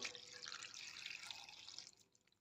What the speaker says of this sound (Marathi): आता ह्या डब्यामध्ये पाणी घालते